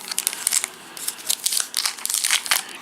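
Cards for the Nova Aetas The Dragon board game are unwrapped from their packaging, giving bursts of close crinkling and tearing plastic in an uneven rhythm.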